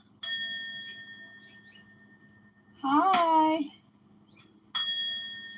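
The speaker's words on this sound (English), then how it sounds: "You want the bells? You want the bells?" Bells ring out in clear, sustained tones: one long ringing passage at the start, a brief spoken greeting in the middle, then the bells chime again near the end.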